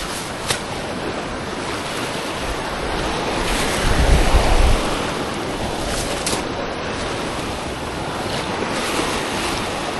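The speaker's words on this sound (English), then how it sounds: "Of course, the waves are not cooperating." Ocean waves breaking on a beach during metal detecting, a continuous close surf wash with gusting wind across the microphone and a louder surge midway.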